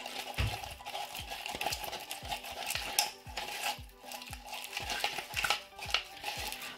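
Slime being stirred after a couple of drops of ink are added, giving repeated soft clicking, tapping and squelching strokes in a steady rhythm, close and moderately loud, with no talking.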